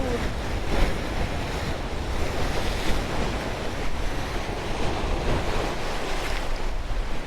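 Waves wash and splash continuously against a sea wall, with a steady roar of surf and gusty wind buffeting the microphone.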